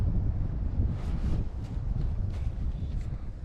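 Strong wind buffets the microphone outdoors on a cold spring waterfowl hunt, a steady low rumbling roar with gusty swells throughout and no other clear sounds.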